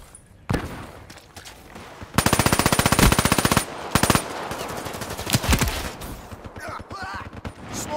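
Weevil SMG firing in Black Ops 3 multiplayer, with a single loud shot, then a fast, sustained automatic burst of rapid evenly spaced rounds, followed by scattered shots and distant game noise.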